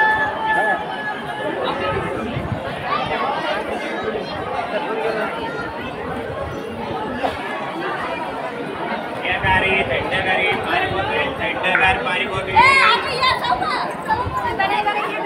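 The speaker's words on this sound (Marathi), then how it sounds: "बघा किती गर्दी आहे." Dense crowd chatter fills the grounds of the Khandoba temple at Jejuri near Pune, a steady loud babble of many overlapping voices with footsteps and movement, close all around.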